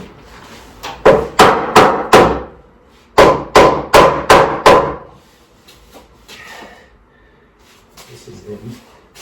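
A hammer tapping on a large metal side gate at a train depot, two quick series of about four or five sharp strikes each, close and loud, followed by quieter handling noises and people talking.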